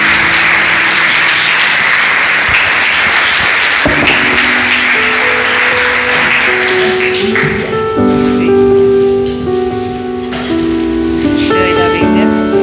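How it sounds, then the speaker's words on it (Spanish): A church congregation applauds with dense, sustained clapping for several seconds, which then fades as music and voices take over. "Vamos a darle un aplauso al Señor."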